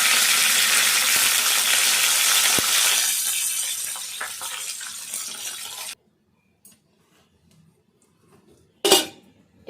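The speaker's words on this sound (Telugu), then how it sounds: "ఇప్పుడు కొంచెం కరివేపాకు వేసుకోవాలి" Curry leaves dropped into hot tempering oil for a mint chutney (pudina pachadi) give a loud, dense crackling sizzle that fades after about six seconds, followed by quiet with a few sharp utensil clinks.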